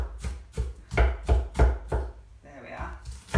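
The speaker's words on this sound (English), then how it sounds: "I hate cutting up onions in front of everybody." A knife chops through an onion on a board, about six firm rhythmic cuts close by, followed by a softer scraping and shuffle of the pieces.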